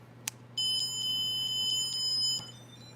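An old musical Christmas snow globe with caroler figures, switched on: a click, then a thin, bright tinkling melody of sustained electronic tones that plays close by for about two seconds before stopping. No voices are heard.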